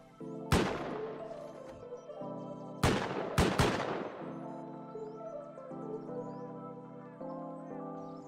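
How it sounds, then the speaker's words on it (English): An automated turret in the survival game Rust fires several sharp shots: one near the start, then a tight cluster of three a couple of seconds later, each ringing out over a sustained tonal background. "I came back when I heard my turret shooting"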